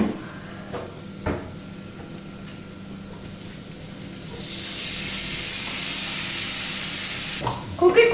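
Tomatoes fry in a pan with curry leaves over raised heat, a steady sizzle that swells louder midway, with a few knocks and scrapes of stirring near the start and again at the end.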